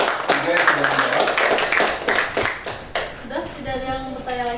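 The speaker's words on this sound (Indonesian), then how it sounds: "tepuk tangan untuk Adil dan kelompok 3 yang sudah menjawab" A classroom of students applauds a student and his group for answering during a university teacher-training lesson, a burst of fairly close clapping that thins out as a voice begins speaking near the end.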